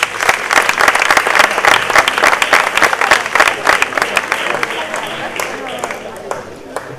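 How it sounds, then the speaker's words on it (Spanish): Loud applause from the crowd at a flamenco contest final, dense clapping that thins out toward the end, with voices from the audience mixed in. "Un aplauso."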